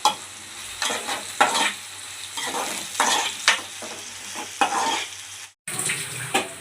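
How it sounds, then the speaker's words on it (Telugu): Onions and curry leaves frying in oil in a pan, a steady sizzle broken by repeated scraping stirs at an irregular rhythm, close and moderately loud with no talk. "ఉల్లిపాయలు కొంచెం వేగిన తర్వాత ఒక రెండు మూడు కరివేపాకు రెబ్బలను అయితే వేసాము"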